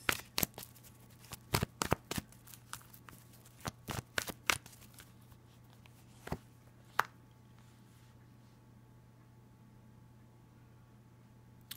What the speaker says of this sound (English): so I'm going to pull another card first.